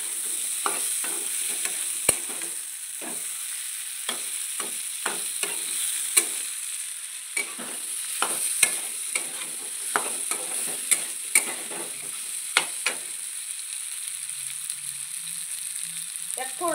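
Fresh green peas frying in a pan with chopped ingredients, stirred by a utensil that makes irregular scraping taps over a steady sizzle, alone with no talk.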